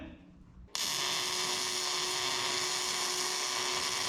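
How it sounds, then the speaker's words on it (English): After a short quiet moment a welder on a coil-over mount bracket starts abruptly and keeps up a steady, loud hiss and buzz with a constant tone, close by and without talking. "Step one, gotta weld her up."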